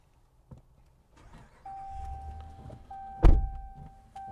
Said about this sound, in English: Let me actually start the engine.